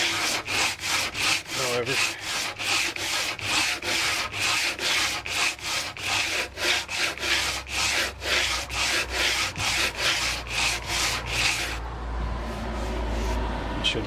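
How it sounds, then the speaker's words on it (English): Coarse sandpaper block rubbed over painted porch wood, a loud close rasping in quick regular back-and-forth strokes for about twelve seconds before stopping. "I do have a sandpaper block. This is some pretty coarse stuff though."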